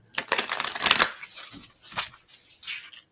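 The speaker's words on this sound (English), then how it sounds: "Do a little shuffle." A deck of cards being shuffled close by, a few quick riffling bursts with short pauses between them, soft and alone.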